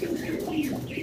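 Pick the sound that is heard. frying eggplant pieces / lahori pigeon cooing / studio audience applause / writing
lahori pigeon cooing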